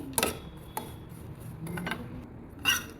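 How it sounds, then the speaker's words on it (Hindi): Dry fruits being roasted and stirred in a pan with a little oil, faint scattered metallic clinks and scrapes of a spoon against the pan over a low steady background, with no talking. "अब इस ड्राई फ्रूट को हम भूनेंगे अच्छे से"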